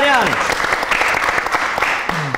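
An audience claps steadily for Gor Margaryan at a live evening show, filling the room; a voice rises briefly over the start and again near the end.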